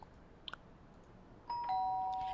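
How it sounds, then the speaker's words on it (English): A doorbell rings inside the life-simulation video game inZoi, a clear electronic chime with a few short dings followed by a sustained tone, fairly quiet against a low background hum. "he's going to ring their doorbell"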